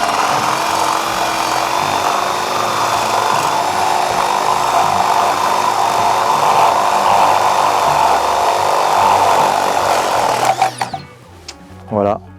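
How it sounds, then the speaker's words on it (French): A compact brushless drill bores steadily and loudly for about ten seconds, then stops and a few clicks and a short whir follow. "le perçage se fait relativement facilement"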